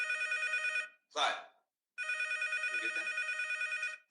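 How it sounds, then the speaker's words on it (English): A telephone at a sheriff's office rings unanswered in long, bright electronic trills, two ring bursts separated by a short pause in which a person briefly speaks. "Rings and rings and rings. Sheriff Jones refuses to pick up the phone"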